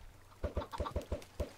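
About six quick clucks from Minecraft chickens come in a short rapid burst after a brief quiet start, close and moderately loud, with no talking.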